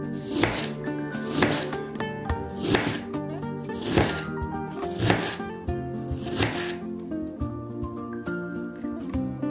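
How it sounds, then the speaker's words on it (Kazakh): Onions being sliced lengthwise with a knife on a board, a steady series of crisp chopping taps at an even rhythm, close and alone. "Пиязды осылай ұзыншалап тураймыз."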